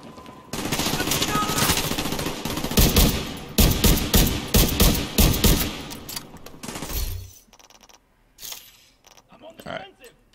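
Bursts of automatic gunfire in a shooter video game, loud, rapid volleys that start and stop in clusters, with a voice briefly heard around them and a quieter tail of scattered shots near the end.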